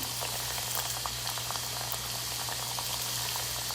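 Chicken pops deep frying in hot oil over a medium flame make a dense, even bubbling and crackling sound that stays at a moderate level throughout, heard close with no voices.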